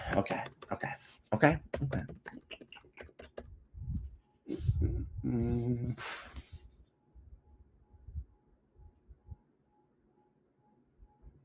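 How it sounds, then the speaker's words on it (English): Fingers tap rapidly on a computer keyboard in bursts of close, crisp clicks, interrupted by a person talking, then a few sparse quiet keystrokes fade out. "I'm gonna use my fingers, and I'm gonna start typing."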